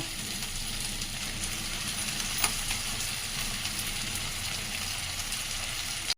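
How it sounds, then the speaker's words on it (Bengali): Fish heads and bones sizzle in hot oil as Malabar spinach goes into the pan, a steady close frying hiss running throughout with a brief clatter near the end. "মাছের কাঁটাগুলো আমার ভাজা হচ্ছে মুড়োগুলো ভাজা হচ্ছে এখানে এবারে আমি দিয়ে দিচ্ছি পুঁই শাকটা"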